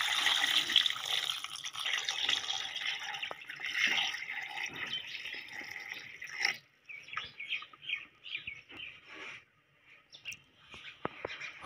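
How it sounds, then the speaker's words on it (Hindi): Water pours steadily into a cooking pot of beef keema with peas and potatoes for about six seconds, then stops. Light clinks and faint chirping sounds follow, with no one speaking. "और इसके साथ पानी शामिल करें।"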